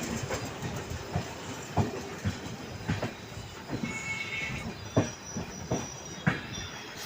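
Duronto Express train running on rails between Nagpur and Balharshah, a steady rumble with rhythmic clickety-clack wheel beats on the joints and faint wheel squeal, heard continuously from on board.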